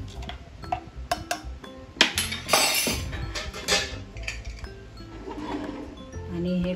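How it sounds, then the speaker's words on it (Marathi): A spoon stirs dal with turmeric and oil inside a metal pressure cooker, giving irregular clinks and scrapes against the pot, fairly close and soft. "आणि हे सारखं ढवळून घ्यायचं"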